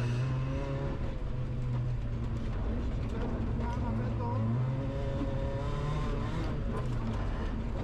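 Rally car on a snowy stage at the Barbórka Warszawska rally, its engine droning loudly and continuously close by, shifting pitch as it revs up and down throughout.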